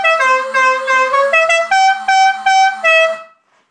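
Dixie horns fitted to a riding mower play a loud, repeating run of bright, brassy horn notes, several in sequence, with no voices.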